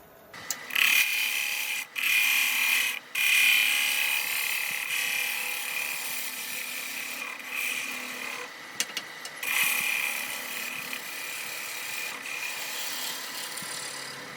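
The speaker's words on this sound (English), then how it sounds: "I'm going to finish the bottom off with this bottoming bowl gouge." A bottoming bowl gouge cuts the underside of a pine burl bowl spinning on a wood lathe. The cutting is a close, high, scraping hiss in several bursts separated by short gaps, with no talking.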